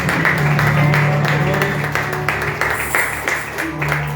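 A church congregation claps loudly together, a steady dense wash of hands with rhythmic accents, while voices and a sustained instrumental tone carry on underneath.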